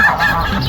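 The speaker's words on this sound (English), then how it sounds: "You crazy duck." Loud, honking waterfowl calls from ducks, close and continuous in a brief burst, with no talk over them.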